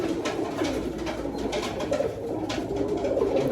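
A pigeon coos softly in a steady low murmur, with repeated rounded calls over faint background noise and no speech.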